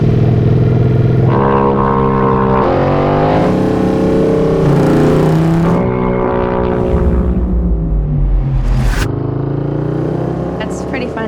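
A Royal Enfield 650 Twin motorcycle launches hard on the Bonneville Salt Flats during a speed record run, its loud, close engine climbing through several gear changes with rising, steady revving throughout.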